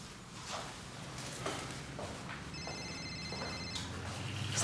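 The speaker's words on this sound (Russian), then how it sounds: "Ой, извините, звонят." A telephone rings faintly with short repeated electronic tones over quiet room noise.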